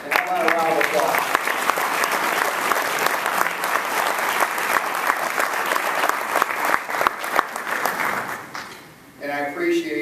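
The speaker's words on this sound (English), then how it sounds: "how about a round of applause?" Sustained applause from a crowd at a gathering supporting a retiring director, dense steady clapping for about eight seconds before fading, with a voice speaking at the start and end.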